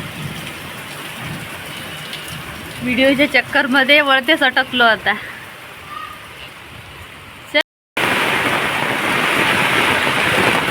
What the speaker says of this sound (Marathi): नागपूरचा पाऊस बघा